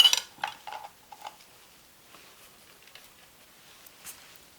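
A knife chops half an onion into quarters on a board, with a few sharp close cuts and clacks at the start, then fainter scattered taps and rustles.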